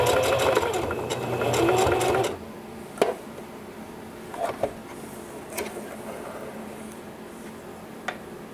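Sewing machine stitching a leather belt for a western vest, a short steady mechanical run of about two seconds, then scattered faint ticks and knocks in a quiet room.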